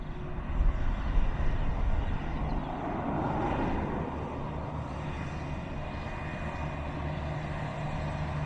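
ATR turboprop airliner approaching at Dublin Airport, a steady low engine drone with a broad rumble that swells slightly early on, then holds at a constant distant level with no voices.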